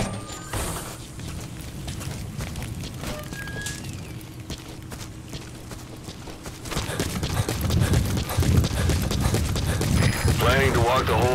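Horse hooves clip-clop steadily through a Metal Gear Solid V Afghanistan level, a continuous galloping rhythm under game ambience, with some speech passing over it and the hoofbeats growing louder and fuller toward the end.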